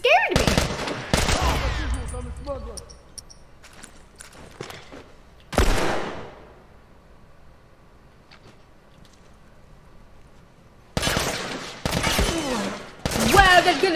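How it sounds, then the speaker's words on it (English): Machine gun fire in The Last of Us Remastered rattles out in a few separated bursts, loud and close, with quieter stretches between and someone talking at times. "At least there's a machine gun here."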